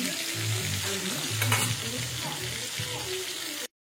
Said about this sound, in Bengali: লাল লাল করে ভাজতে হবে যতক্ষণ না লাল লাল হয়ে ভাজা হচ্ছে